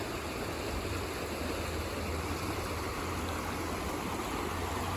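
Stream water flowing in a park, heard up close as a constant dense rushing and babbling wash, steady and unbroken, with no voices.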